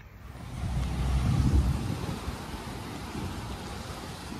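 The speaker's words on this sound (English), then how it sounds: "Yeah, it's pretty windy today." Steady broadband wind rumble buffeting the microphone at the beach in Panama City Beach, Florida, swelling louder in the first couple of seconds then holding at a constant roar.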